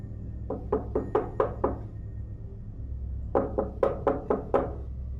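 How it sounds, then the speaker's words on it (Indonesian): Knocking on a bedroom door for a horror story, two separate bursts of about five or six sharp wooden knocks each, close and clear over a low steady hum. "Dia mengetuk pintu kamarnya Wati."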